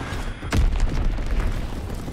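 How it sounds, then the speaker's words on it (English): A single heavy bomb blast from a strafing run in Call of Duty WWII, one deep boom that rolls into a low rumble and fades. "Gotta watch the fucking bombs."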